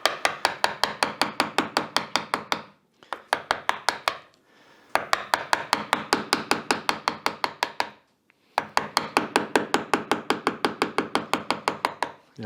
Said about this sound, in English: this is where having a really sharp gouge really pays off